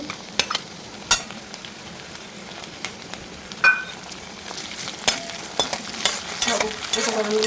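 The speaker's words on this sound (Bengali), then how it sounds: "এরপর আমি আদা রসুনটা দিয়ে দিচ্ছি" Ginger and garlic frying in a pan for a potato and pea curry, a faint steady sizzle with occasional sharp spatula clinks and scrapes, growing busier toward the end.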